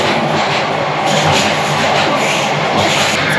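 A Tokyo metro train rides along with a steady, loud broadband rumble and rolling noise from start to finish, no voices over it.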